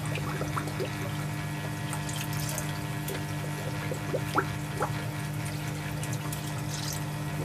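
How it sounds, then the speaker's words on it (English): Water runs steadily from a tap as pool skimmer parts are rinsed, a constant close hiss and splash with small irregular spatters and drips on top, no voices. "So basically I'm just going to rinse those out like it says."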